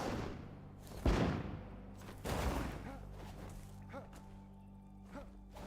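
Bombs explode in the fantasy survival game Enshrouded, producing two heavy booming blasts with rumbling decay and a few lighter thumps afterward, over a soft musical background bed.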